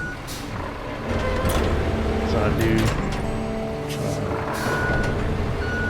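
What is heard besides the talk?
forklift truck driving with reversing beeps, video game Road Craft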